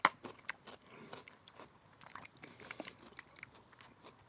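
Crisp crunching bites and chewing of an apple, celery and nut salad, close and quiet, a sharp first bite followed by a run of irregular smaller crunches and mouth sounds.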